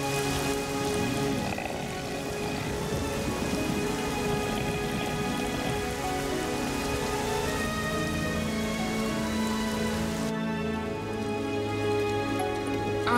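Steady rain of a storm patters on a surface in an episode of the animated series Avatar: The Last Airbender, with tonal music playing throughout and a shift in the music near the end.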